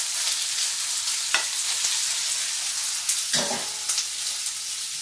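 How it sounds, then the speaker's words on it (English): Onions and langoustines caramelizing together in one pan give a steady, close, dense sizzle, broken by two brief clinks of a utensil against the pan. "And now the onions are going to start to caramelize as well."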